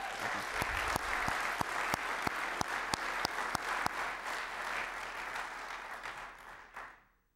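An audience claps at a program where a former Marine drill instructor is guest speaker. The sustained applause has sharp, regularly spaced loud claps standing out in front, then it tapers off and stops abruptly.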